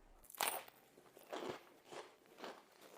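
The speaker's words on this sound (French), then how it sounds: "Je veux dire, écoute ce croustillant." Four sharp crunches from biting into something crisp, spaced unevenly, close and fairly loud, with no talking.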